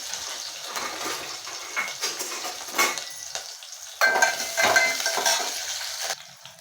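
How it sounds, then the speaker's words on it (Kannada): Onion and curry leaves frying in hot oil with mustard seeds for a tempering give off a close, uneven sizzle and crackle. A utensil stirs the pan with occasional scrapes and louder bursts as the oil spits. "ಈರುಳ್ಳಿ ಕರಿಬೇವು ಸೊಪ್ಪು ಒಟ್ಟಿಗೆ ಫ್ರೈ ಆಗಿದೆ"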